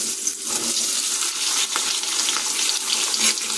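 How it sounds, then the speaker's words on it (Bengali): Cut potato pieces frying in hot oil in a pan, heard as a steady, loud broadband sizzle that runs unbroken through the clip with no talking. "এই গরম তেলের মধ্যে আমরা কেটে রাখা আলুগুলো যোগ করে দিচ্ছি।"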